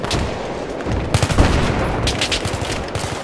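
Rapid bursts of gunfire in a Battlefield 3 battle on the Seine Crossing map, loud, dense and overlapping, with sharper close shots cutting through continuous distant shooting.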